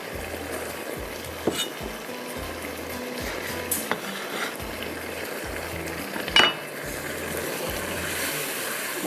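Capsicum, onion and tomato stirred in a pan on the stove, with a low steady sizzle and soft scraping and clinks of the spoon against the pan; no talking.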